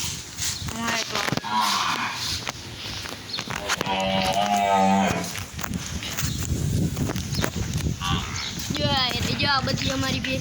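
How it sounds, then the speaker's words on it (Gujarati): Buffaloes on a farm give low, drawn-out moos, one long call standing out midway, alongside hoof clopping and animal movement; people talk throughout. "જો આ બધી અમારી ભેંસ"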